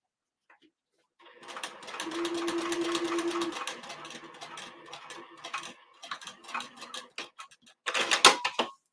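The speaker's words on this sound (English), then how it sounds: "Back tack a little bit and then come forward and stitch the opening closed." A sewing machine stitches closed the opening of a snap pouch, a steady rapid mechanical chatter close by that slows into spaced bursts and stops, followed by a brief louder rattle.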